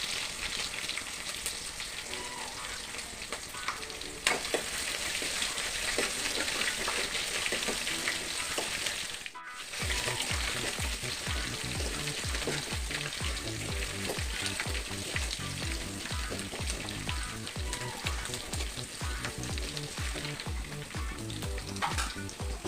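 Crushed garlic and ginger frying in oil in a pan for pickle, a steady loud sizzle that continues without pause, with stirring scrapes becoming more regular in the second half.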